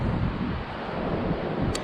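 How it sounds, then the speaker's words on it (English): Strong wind buffets the microphone on a high mountain trail along the Everest Base Camp trek in Nepal, a loud continuous roaring rush with heavy low rumble, steady throughout and with no voices. "Oh, it's so windy."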